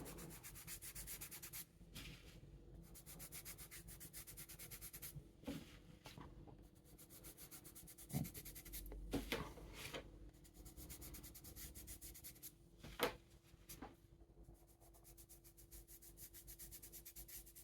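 Derwent XL charcoal on smooth paper being rubbed and blended, a soft, close scratchy sanding sound in steady strokes broken by short pauses, with no voices.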